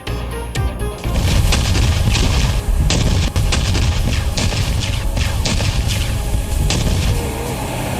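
Loud, continuous booming and sharp blasts from a K9 Vajra self-propelled howitzer firing, with repeated heavy reports layered over a dense rumbling roar.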